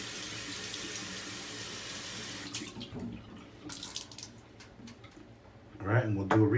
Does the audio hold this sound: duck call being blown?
no